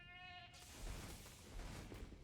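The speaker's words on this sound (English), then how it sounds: "I get to roll around like a goat and make goat noises." Goat bleats and noises from a player character in a video game, a short harmonic bleat at the start giving way to dense, rough noise, moderately loud throughout.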